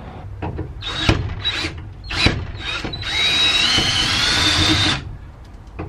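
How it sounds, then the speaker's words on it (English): A power drill whirs in short bursts, then runs steadily for a couple of seconds with a rising whine as the bit reams out a rivet hole in metal, close up. "I'm going to use a drill bit, ream this out just a little bit more"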